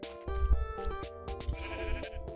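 Sheep in the video game Minecraft bleat in a quick run of several clear, close calls, one after another with no talk over them.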